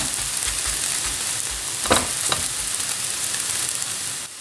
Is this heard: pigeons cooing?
no